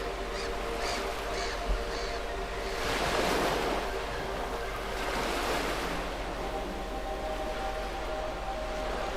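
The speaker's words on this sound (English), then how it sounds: "Wave after wave reaches the shore and returns." Ocean waves roll onto the shore and draw back in a steady, continuous wash, with swelling surges of surf and some wind noise on the microphone, no voices present.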